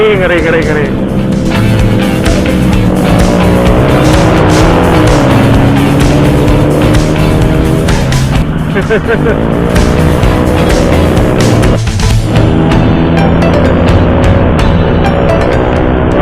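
A motorcycle ridden aggressively on a road at night roars past close by. The loud engine note swoops up and down as it revs and passes, over continuous wind and road noise.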